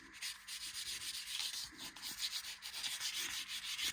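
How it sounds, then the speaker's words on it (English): Fine 240 to 400 grit sandpaper rubs over a wooden bow for a bowed psaltery, a steady run of close, soft scratchy strokes in an even back-and-forth rhythm with no talking. "you take the finest sandpaper you used last, whether that's 240 or 400 grit, and you just go over again with the wood"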